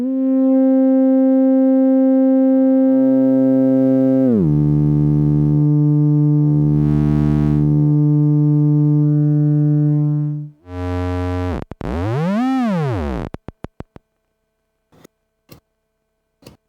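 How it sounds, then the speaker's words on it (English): SNIDxs synth patch in which a steady sine-wave tone plays together with a clock divider's output an octave lower, sustained notes shifting pitch, then a rising and falling sweep and a few sharp clicks at the end. "it can be heard that the clock divider's output is an octave lower than the sine wave"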